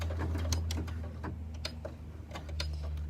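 A sewing machine stitches slowly on a quilt block, its needle ticking in an uneven run of distinct close clicks over a low steady motor hum, run by thumb control instead of the foot pedal.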